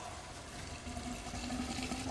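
Water pours and rushes in a steady, even stream, filling the whole stretch with a constant watery wash and a faint tonal hum underneath, no voices.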